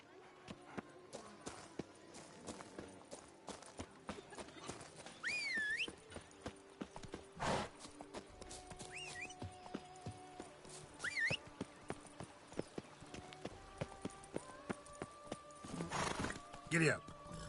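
A horse in The Witcher 3 gallops with quick rhythmic clip-clop hoofbeats, broken by several loud neighs and whinnies, while a voice speaks intermittently over the hooves.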